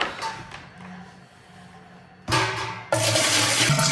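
Cold water poured into an autoclave packed with jars of homemade condensed milk, a steady rushing gush that starts moderate and surges louder toward the end, with no talking.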